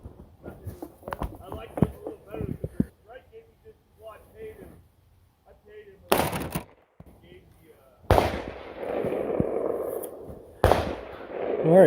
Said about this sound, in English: I'm actually just going to fire the gun normally at this point